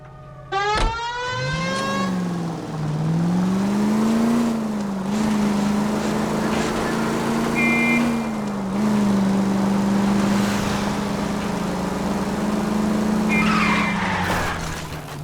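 Car engine revving and tires skidding during a chase in the video game L.A. Noire, with the motor's drone rising and falling steadily and screeching skids at the start and near the end.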